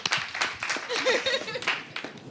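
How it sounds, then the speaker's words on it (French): Studio audience clapping on a French television talk show set, a short burst of hands with voices and chatter mixed in over the applause. "Applaudissez"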